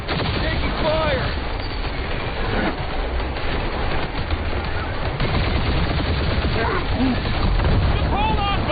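Rapid gunfire bursts in the video game Marvel's Guardians of the Galaxy crackle continuously during a chaotic firefight, layered with whooshing and chirping effects and some voices.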